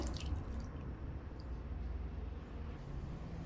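Spicy misal curry gravy (rassa) poured onto a plate beside potato bhaji, a soft, steady liquid pour and drip that stays faint under low background hum.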